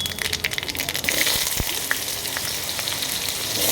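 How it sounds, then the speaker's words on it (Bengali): Diced potatoes drop into hot oil tempered with bay leaf, dried red chilli, whole garam masala and cumin, giving a steady close sizzle and fry with a brief stirring scrape, no talk over it. "এবার আমি এর মধ্যে আলুটা দিয়ে দেবো"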